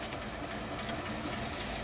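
The V8 of a 1969 Ford Mustang Mach 1, left sitting for years, idles with a steady low rumble, a short close-up stretch of even engine noise with no talking.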